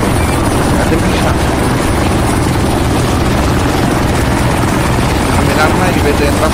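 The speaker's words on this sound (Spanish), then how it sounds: "Helicóptero, a mi orden se va, espere un segundo." A military helicopter in the ArmA 3 combat game thunders loudly and continuously, its rotor and engine roar dense and close, with voices over the noise.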